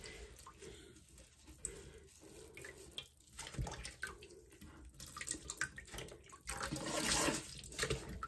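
A tap runs into a sink at night during a face-mask routine, water pouring and splashing steadily at low level with some clatter, growing louder and fuller toward the end; no one speaks.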